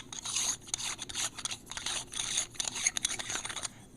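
A long threaded waterproof EDC capsule being unscrewed by hand, soft close scraping and rasping of the threads in short uneven strokes.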